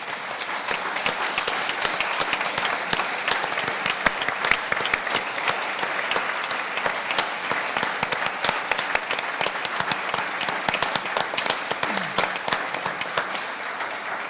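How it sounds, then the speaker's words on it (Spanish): A conference audience at an international holiday-rental congress in the Canary Islands claps steadily and fairly quietly, with many separate hand claps merging into a sustained wash that lasts well over ten seconds. "Un aplauso, por favor, para ellos."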